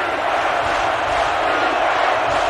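Dense, steady roar of a sellout stadium crowd at a college football game between Kent State and Alabama in NCAA Football 11, loud and continuous throughout with no distinct voices on top.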